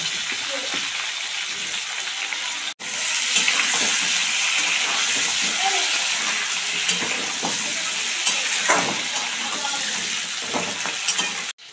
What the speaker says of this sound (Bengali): এবার ওই একই তেলে আমরা আলুগুলো ভেজে তুলে নেব।